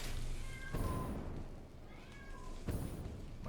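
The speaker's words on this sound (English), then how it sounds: "My cat is literally going crazy right now" A house cat meows excitedly two or three times, rising yowling calls heard over steady background noise and sharp bursts of sound.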